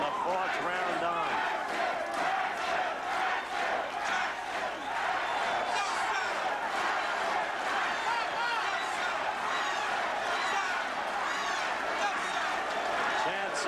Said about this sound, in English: Chants of the crowd speak for themselves.